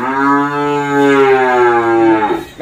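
A cow moos loudly and close on a Vietnamese cattle farm in Tra Vinh, one long sustained low call that holds steady before breaking off at the end.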